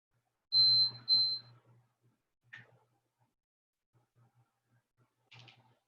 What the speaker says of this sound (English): Ignore that beep.